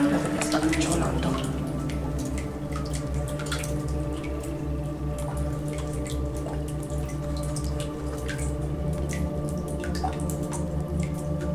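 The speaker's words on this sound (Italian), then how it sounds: "Guardate che sta gocciolando." Water drips inside an old mine tunnel, small scattered plinks falling irregularly over a steady low rumble of the underground space, faint and echoing.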